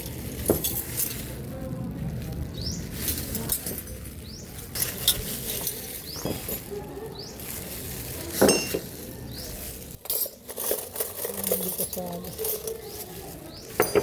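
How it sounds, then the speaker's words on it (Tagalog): Teaspoons, soup spoons, forks and larger spoons set out on a table, giving scattered light metallic clinks and taps against a steady busy room murmur with occasional voices nearby. "lalatag naman natin mga kutsarita, soup spoon, tinidor, tsaka kutsara"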